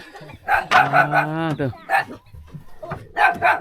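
Chickens at the coop of a rural house cluck and squawk in short loud bursts, with a rooster-like drawn-out call in the middle, close to the listener.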